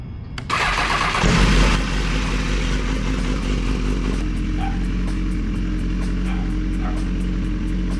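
A BMW S1000 motorcycle engine cold starting early in the morning: a brief crank, a loud catch and rev, then a steady, high idle that continues alone.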